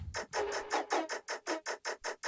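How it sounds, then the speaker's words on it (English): Short, chopped noisy bursts repeat in a tight, even rhythm, about ten hits in quick succession with brief gaps between them. "I also found random little bits of Foley and I chopped them up in the sampler"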